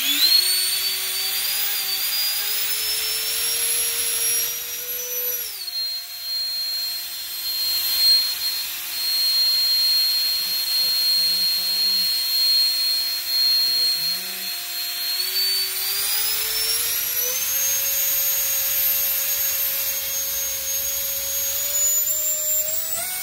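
A Freewing 1857kv electric ducted fan motor on an 8s pack whines loudly and continuously, its pitch stepping down and then back up across the run, a piercing turbine-like tone with no speech.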